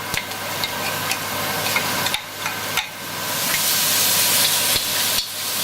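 Beef strips sizzle and hiss steadily in a hot wok with garlic and ginger. Occasional clinks and scrapes of a spatula stirring cut through the constant frying noise, with no voices.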